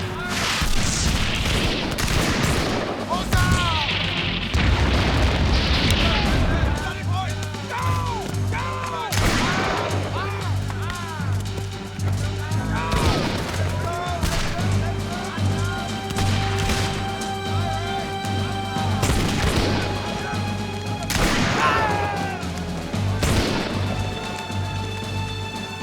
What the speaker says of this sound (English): Commence firing, Captain Shields.